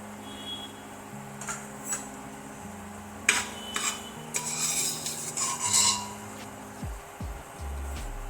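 Dry fruits being roasted and stirred in a pan with a spoon for jaggery porridge, heard as intermittent close scraping and clinking against the metal over a low hum, with a few louder strokes toward the end.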